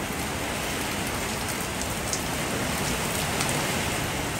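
Heavy typhoon rain during Typhoon Uwan pounds a house in a dense, constant roar of drops, loud and unbroken throughout.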